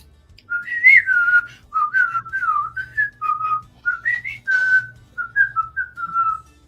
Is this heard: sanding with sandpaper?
no